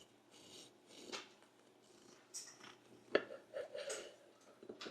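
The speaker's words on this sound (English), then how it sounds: "Let's see how it slices." A knife cuts through a loaf of freeze-dried banana bread, giving soft rasping, crumbly scrapes and a sharp crunch partway through, close and fairly quiet, with no talking.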